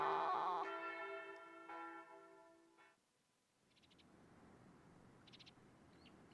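Church wedding bells ringing in the Tokimeki Memorial Girl's Side 4 video game, a bright layered chime that decays and fades to quiet, followed by faint higher tinkling notes over soft ambience.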